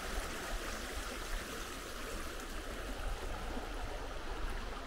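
A river flowing beside a clapper bridge near old farmhouse ruins on Dartmoor, a steady broad rush of moving water, close and constant, with no voices.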